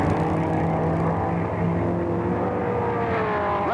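Race cars roar flat out at Riverside International Raceway during the 1965 Los Angeles Times Grand Prix, a loud, continuous multi-engine drone with one engine note climbing sharply near the end.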